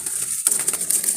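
A Jalali pigeon coos softly in short repeated notes close by, against a steady high hiss of background noise.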